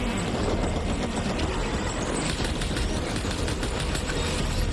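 Sustained burst of video game gunfire in Death Stranding Director's Cut, a dense, continuous crackle of rapid shots filling the whole stretch at steady loudness, with no pauses.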